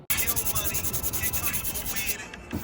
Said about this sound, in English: So we started by sanding